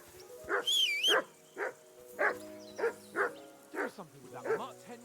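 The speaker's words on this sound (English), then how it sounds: "Do something with that mutt, Henry" A mutt barking in the video game Kingdom Come: Deliverance II, with several close, loud barks at uneven intervals and a short whine or yelp near the start.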